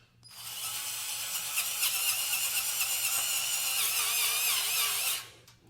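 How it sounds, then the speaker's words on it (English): Power tool whirring steadily as screws are loosely driven into Cybertruck roof rack crossbars, a continuous close mechanical whine for about five seconds before stopping abruptly, no talk. "Now I'm going to go ahead and just loosely put a screw in each of these."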